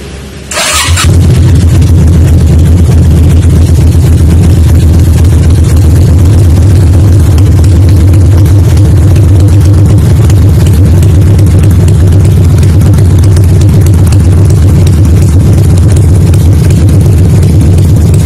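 A Ruby P250 250cc motorcycle engine starts with a brief crank, then settles into a loud, steady close-up running drone that holds throughout.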